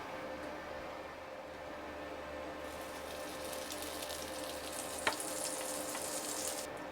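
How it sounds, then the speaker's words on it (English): Half a tablespoon of butter melts in a hot pan, giving a soft, steady sizzle that grows brighter and louder partway through, with a single sharp click near the end. "Heat a pan, add half tablespoon of butter into the pan."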